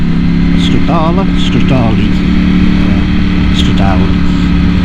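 Ducati V4 Desmo 16 Stradale motorcycle engine running steadily with a low droning hum throughout, while someone talks over it.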